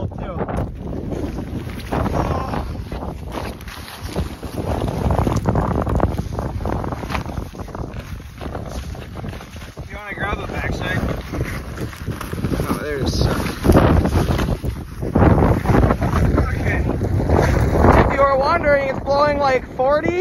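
Strong gusting wind on a frozen lake buffets the microphone in a loud continuous roar, with muffled talking partly buried underneath.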